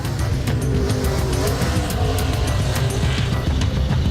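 A race car circuit with high-grip pavement: loud continuous engine roar with squealing tires, steady and close throughout.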